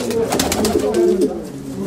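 A hand-raised female pigeon, offspring of a prized large male, coos nearby in a run of warbling, rolling calls that rise and fall, fairly loud against a continuous low room noise.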